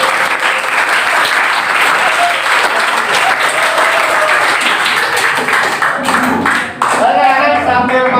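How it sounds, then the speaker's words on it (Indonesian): Students in a mathematics classroom clap for group 8, a busy, close burst of hand claps that runs strong for several seconds before a voice begins speaking near the end. "Berarti tepuk tangan untuk kelompok 8."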